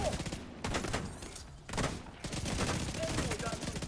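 Sniper turrets firing in a video game match against solo engineers, a dense fusillade of loud, rapid gunshot bursts that continues across the whole stretch with little let-up, under brief talk.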